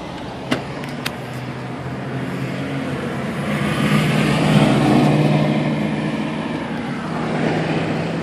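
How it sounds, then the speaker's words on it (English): A Critter concept car with a motorcycle engine drones steadily in the distance, swelling louder as it passes and then easing off, with a couple of sharp clicks near the start. "Car that has a motorcycle engine"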